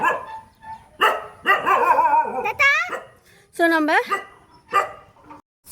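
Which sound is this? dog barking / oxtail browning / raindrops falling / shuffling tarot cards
dog barking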